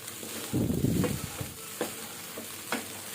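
Egg fried rice tossed in a pan over a high flame: a loud scraping, rustling burst of stirring, then quieter sizzling broken by a few sharp knocks, close by.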